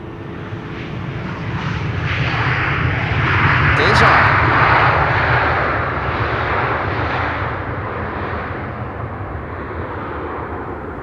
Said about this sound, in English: Lufthansa flight 998 coming in from Frankfurt. A320, 15 years old.